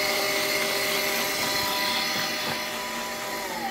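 A Turin DM47 coffee grinder running continuously during a grind adjustment, giving off a loud, steady mechanical whine with a slight wavering in pitch, heard up close and alone.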